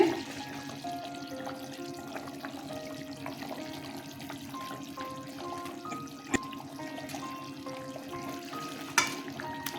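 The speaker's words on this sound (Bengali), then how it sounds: "ঝোলটা ফুটে গেছে তিনটে কাঁচা লঙ্কা দিয়ে দিলাম আমি বড়াগুলো ছেড়ে দিচ্ছি" Duck egg and potato fritters slipped into a simmering curry spiced with green chillies, giving a steady low bubbling and gentle simmer, broken by a couple of sharp clicks near the end.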